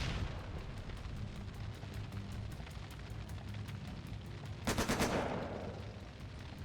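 Gunfire in The Lamplighters League, made up of rapid repeated shots rattling in a steady stream under game ambience, with a louder, brighter burst near the end.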